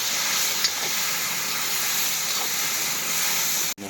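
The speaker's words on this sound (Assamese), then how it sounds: "এই আলু বইলিং কৰাটো এতিয়া ভাজি কৰি ল'ম, পিঁয়াজ জলকীয়াৰ লগতে আলু বইলিংটো" Boiled potatoes frying in hot oil with onion and green chili give off a loud, steady hiss that stays constant and close for the whole stretch, then cuts out abruptly at the very end.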